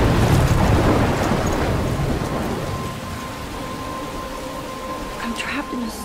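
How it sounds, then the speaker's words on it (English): In the game Life is Strange Remastered, a thunderstorm brings heavy rain and a rolling rumble of thunder that fades gradually. It is loud at first and then settles into a steady wash of rain. "I'm trapped in a storm."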